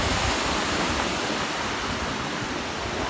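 Tat Yueang waterfall at Pakxong in Champasak province, Laos, roars loudly and continuously close by, a thick, unbroken rush of falling water with no voices over it.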